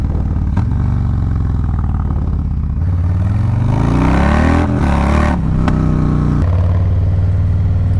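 A new Harley-Davidson motorcycle engine runs loud and close. It idles in a low, steady rumble, then revs up through a rising rev and drops back to a heavy idle, with no talking.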